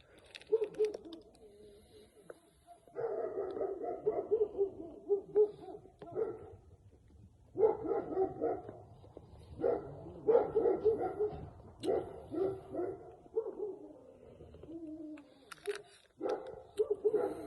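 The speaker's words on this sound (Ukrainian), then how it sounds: "тут собака гавка" A dog barks repeatedly in bursts, moderately distant, with quiet gaps between the barking and some faint whimpering sounds.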